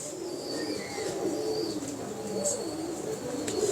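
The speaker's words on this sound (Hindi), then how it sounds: "ये वो कबूतरी है" Soft, low pigeon cooing repeats in a gentle rolling rhythm, close by, with a few faint chirps and rustles in the background.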